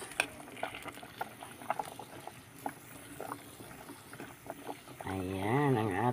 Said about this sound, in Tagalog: kunting kulo lang yan guys